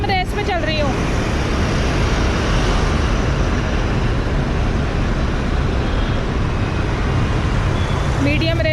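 Scooter ridden at medium throttle on a busy main road, a continuous loud roar of engine and surrounding traffic noise with brief horn-like tones at the start and end.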